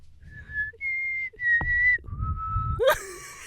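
Someone whistles a few short, separate notes at different pitches, fairly quiet and close, with breathy pauses and a squeaky laugh-like sound at the end.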